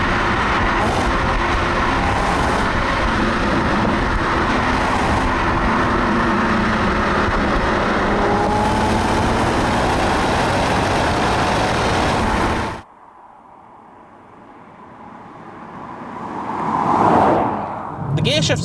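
Engine of a V36 Nissan Skyline 370GT 55th Anniversary on the move, a dense loud drone with road noise that cuts away abruptly, then a quieter stretch where the engine swells and fades.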